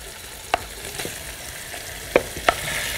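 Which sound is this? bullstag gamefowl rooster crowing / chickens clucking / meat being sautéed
meat being sautéed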